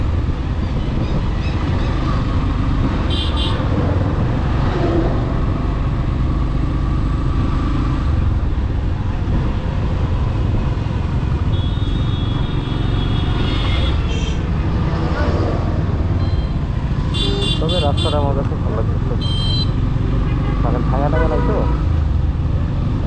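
A motorbike rides along a rural road by day, its engine and wind noise a constant loud rumble throughout, with occasional horn-like tones and someone talking over the ride.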